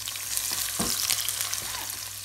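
Two large chopped onions frying in hot oil for a caramel onion gravy, a constant close sizzle broken by a few sharp stirring knocks against the pan, with no voices.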